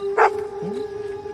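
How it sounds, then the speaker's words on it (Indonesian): A dog near a lake lets out a single short, sharp bark followed by a brief whine, over a steady tonal hum in the background. "Paris saat anjingnya bernama Welly menggonggong ke arah danau tersebut."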